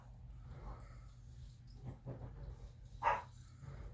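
A small dog barks somewhere in the house, a few faint, scattered yaps at a distance, with the sharpest bark near the end over a low background hum.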